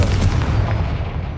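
A Confringo blasting spell cast in Hogwarts Legacy gives a deep, booming blast that rolls on for the whole moment, heavy and close, with no talking over it.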